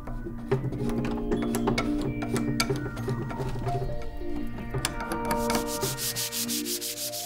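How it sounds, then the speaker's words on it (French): Wooden table being sanded after a two-part wood filler of wood powder and resin has dried, giving a steady, close scraping rub with tonal background hum and a brighter, hissing stretch near the end. "il ne vous reste plus qu'à poncer et dépoussiérer"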